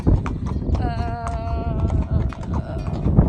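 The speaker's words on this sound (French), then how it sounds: "on se retrouve à cheval où je suis sur Lady." A horse being ridden on an outing, its hooves clip-clopping in a steady rhythm close by, with people talking over it.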